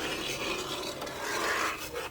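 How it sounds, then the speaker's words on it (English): A metal spoon scrapes and stirs thick creamed butter and sugar for lemon curd in a bowl, producing a continuous close gritty rasping with no talk. "I am using a metal spoon because that's what works for me. I'm sorry about the sound."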